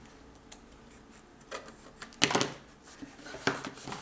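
Scissors trim excess cardboard beneath a scrapbook recipe box, giving a few close, scattered snips and rustles that build to a louder cutting burst midway, with no talking.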